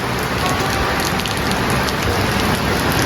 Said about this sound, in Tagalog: Grabe pa ang ulan na, maulan.